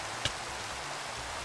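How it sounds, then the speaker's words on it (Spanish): Steady rain falls in a Pokémon lucky blocks video game, a soft, even hiss of drops holding constant throughout, broken by one brief tap near the start, with no talking. "hace aquí mucha lluvia"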